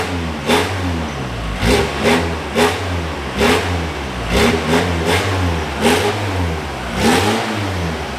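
An Audi 80 diesel engine is revved repeatedly in short blips, about a dozen regular throttle bursts that rise and fall over a steady rough idle, heard close up without talk.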